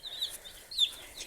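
Chickens on a farm give a few soft, high clucks close by, two short calls within about a second.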